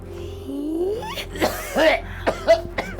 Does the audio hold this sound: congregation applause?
no